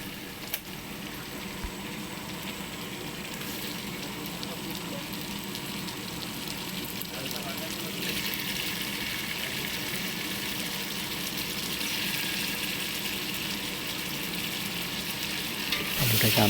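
Cut potatoes fry in oil in a pan for a Bengali rui fish-head muri ghonto, giving a steady close sizzle throughout with scraping stirring strokes, growing slightly louder near the end, with no talking.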